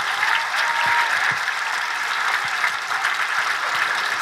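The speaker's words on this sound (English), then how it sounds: "Give yourselves another round of applause." Steady round of audience applause at an elementary school ceremony celebrating a blue ribbon award, a dense even wash of many hands clapping throughout without pause.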